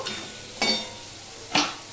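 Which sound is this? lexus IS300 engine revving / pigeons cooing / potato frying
potato frying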